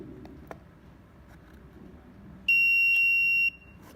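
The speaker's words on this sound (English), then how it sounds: "a buzzer will notify the students that the exam is over" A smart classroom system's exam-end buzzer sounds one steady, piercing electronic tone lasting about a second, loud against a quiet room hum.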